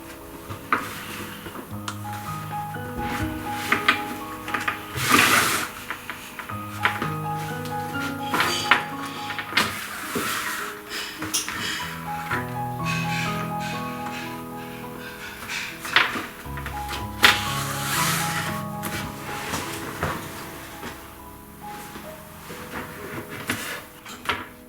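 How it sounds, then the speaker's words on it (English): Croco-stamped nubuck leather bag being hand-stitched, with repeated soft pulls and taps of needle and thread through leather, irregular clicks and rustles up close, and a quiet tonal background underneath. "Time for stitching again."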